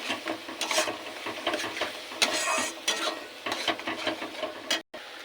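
Ground spices (salt, chilli, cumin, coriander and turmeric powder) stir-fried in a pan for an egg and potato curry, a continuous close scraping and soft sizzle with rhythmic spatula strokes, briefly cutting out near the end.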